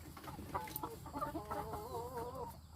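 Laying-breed chickens clucking and calling steadily during a vaccination session on a farm, several birds close by with rising, wavering cries layered over a constant coop background.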